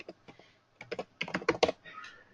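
Keys clatter on a computer keyboard while a name is typed into a document collaboration tool, quick bursts of close taps with short pauses between them.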